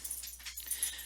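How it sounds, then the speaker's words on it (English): Faint high-pitched squeaks from a rubber toy being chewed, several quick squeals in a row with a soft hiss underneath. "my dog squeaking his dog toy in the background"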